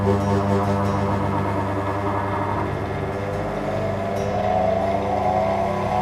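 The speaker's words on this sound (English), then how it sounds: "a final buff on a dry, what they call a dry wheel" A motor-driven dry buffing mop whirs steadily as an estate tobacco pipe is polished on it, the tone shifting in pitch as pressure on the wheel changes.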